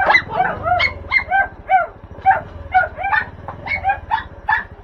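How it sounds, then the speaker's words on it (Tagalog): Several dogs bark in excited, rapid bursts as they rush forward to greet someone, close and loud with yips mixed in, a steady run of barking with no talk over it. "Yan, ganyan mga aso na yung pagkano sumasalubong"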